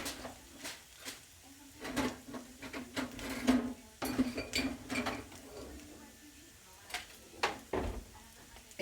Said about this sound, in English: So what I'm going to do is stir all that good yum up.